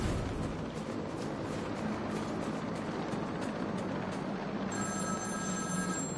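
A telephone rings in the Batman: Arkham City video game, its steady tone entering near the end over a loud, dense bed of game noise and rumble.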